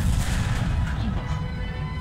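Dense, continuous gunfire and artillery-like booms in the World War II shooter game Enlisted, heavy and loud for the whole stretch with no pauses.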